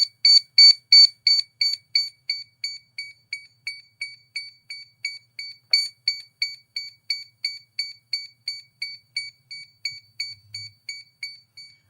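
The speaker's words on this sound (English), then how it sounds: "Aircraft's beeping." A drone aircraft beeps while pairing with its controller: a long, even series of sharp, high electronic beeps repeating rapidly at a steady pace, clear and close with no speech.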